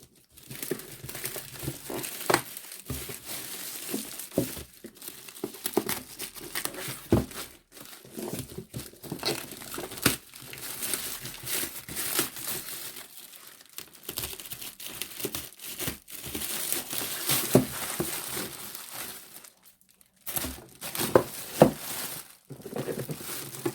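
Packaging on a Baderis BT 1607 headphone box crinkles and tears as it is opened, giving dense, irregular rustling and crackling up close over about twenty seconds, with brief pauses and no talking.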